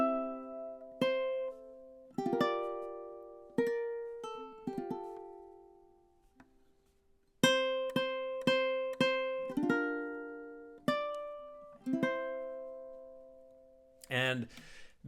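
Ukulele strumming and picking the outro of a theme, with bright plucked chords and single notes in a loose rhythm and some pauses, close and clear, ending with a brief noisy burst.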